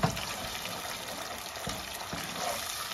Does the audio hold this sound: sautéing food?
yes